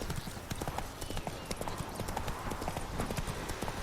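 Quick, steady clip-clop of horse hooves in the video game The Witcher 3, dense rhythmic strikes close up over a constant low rumble.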